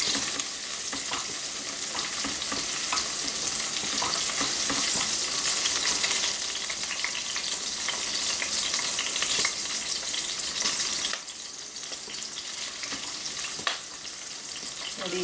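Green chillies for a North Karnataka hasi khara frying in oil, a dense continuous sizzle with spitting crackles that drops slightly in level near the end.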